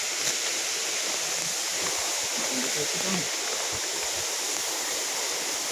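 Laamos Falls pours in a continuous broadband rush of falling water, close and steady, with people talking briefly over it.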